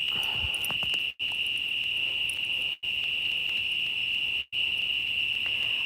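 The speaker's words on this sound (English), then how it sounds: "It's the crickets that make the most noise." Crickets chirp steadily in a suburban garden at night on a balmy summer evening, a continuous high trill that breaks off briefly three times, with faint background sounds and no talk.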